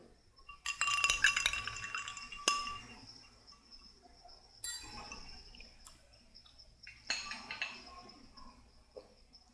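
Ice clinks and rattles against a glass as ginger juice is stirred, in a few bright bursts of tinkling separated by quieter pauses, close up, with faint talk in the background.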